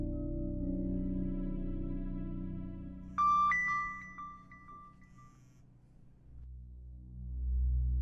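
A phone's ringtone sounds once during a call, a bright chiming burst that rings and fades over soft, steady background music.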